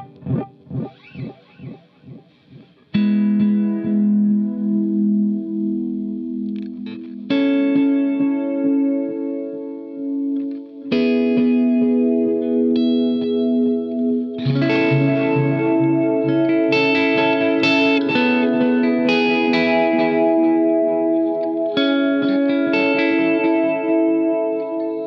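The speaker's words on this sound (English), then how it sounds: "my C delay is, I believe, the Space Echo preset, and it's just a very strong," An electric guitar plays through an Atomic Amplifire on a Space Echo delay preset, giving a heavy quarter-note echo. A few muted plucks give way to sustained, shimmering chords and notes that repeat and trail off, loud and close.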